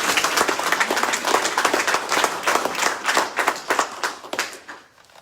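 An audience applauds a veteran at a local commissioners' meeting, with dense, steady hand clapping that holds for about five seconds and then tapers off.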